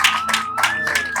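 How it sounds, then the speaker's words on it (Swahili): A short burst of audience applause welcoming a guest comes as a few rhythmic clap bursts over a sustained tone, close and moderately loud. "Wow, makofi jamani"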